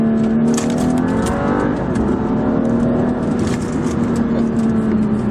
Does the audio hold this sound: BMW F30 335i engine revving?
yes